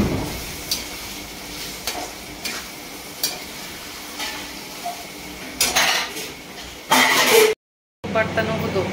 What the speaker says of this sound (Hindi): पहले बर्तनों को धुलाती हूँ भाई